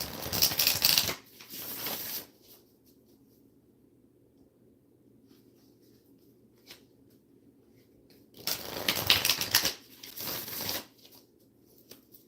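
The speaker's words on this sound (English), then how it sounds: "I'm going to pull one last oracle card here." Oracle cards being shuffled in two brisk bursts of riffling and flicking, close and crisp, separated by several seconds of near silence with only faint taps and a soft card pull.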